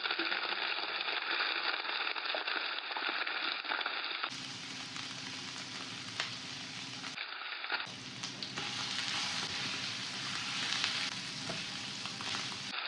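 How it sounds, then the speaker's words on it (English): Boiled goat heart pieces lightly frying in two tablespoons of hot oil with ginger garlic paste, a steady close sizzle and crackle with occasional stirring, continuous and without voices. "Lightly fry the boiled heart pieces."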